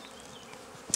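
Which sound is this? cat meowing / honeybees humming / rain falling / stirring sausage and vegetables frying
honeybees humming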